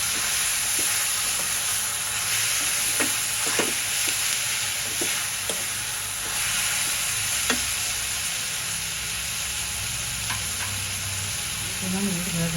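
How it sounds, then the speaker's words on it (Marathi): Onion and tomato being stirred and sautéed in a pan for dhaba-style paneer bhurji, a steady loud sizzle with occasional scraping clicks of the spoon throughout. "आणि पुन्हा कांदा टोमॅटो एकदम होईपर्यंत परतून घेऊया."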